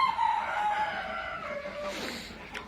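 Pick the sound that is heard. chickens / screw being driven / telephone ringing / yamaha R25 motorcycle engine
chickens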